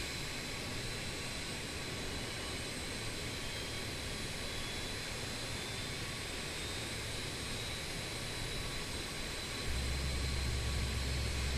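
In Microsoft Flight Simulator 2020, a BAe 146 jet engine spools up over the loud, steady roar of engines already running, a constant broadband whine that deepens with a low rumble near the end.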